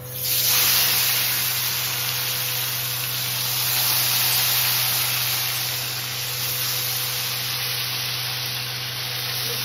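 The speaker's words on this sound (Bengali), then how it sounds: "আর হচ্ছে এই মাছগুলো দিব, এই দেখো মাছগুলো দিচ্ছি।" Koi fish drop into hot oil in a kadai, setting off a loud, steady sizzling hiss that holds for several seconds without any speech.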